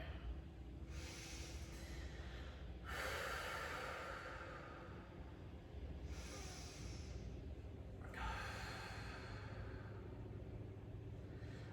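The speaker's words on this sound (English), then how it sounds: "So inhale for 4, exhale for 4." Slow, deep yoga breathing, each inhale and exhale held for a count of four, rises and falls as soft, airy swells over a faint low rumble.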